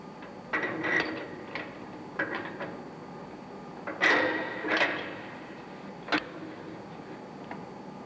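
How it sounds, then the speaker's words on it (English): A pin spanner turns an air starting valve spindle into position during a valve overhaul, making a handful of light metallic clicks and scrapes at irregular intervals, close and fairly quiet. "This is put in position by means of the pin spanner."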